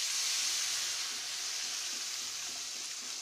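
Cooked toor dal poured into a hot tempering of spices and asafoetida for Gujarati dal, giving a loud, steady hiss and sizzle that fades slightly over a few seconds, with no voices.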